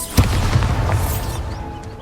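A Bombarda spell blast in Hogwarts Legacy goes off in one loud, deep boom with a sharp onset, then a rumbling debris tail that fades over about two seconds, with no voices.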